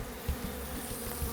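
Carniolan honey bees buzz steadily at a hive, a soft, continuous low drone with no pauses.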